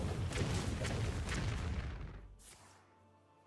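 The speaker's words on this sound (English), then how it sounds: "There's the bomb." A bomb goes off in a video game, a loud rumbling boom with crackling debris that fills the first two seconds, then fades into a quiet tail before a sharp new hit at the very end.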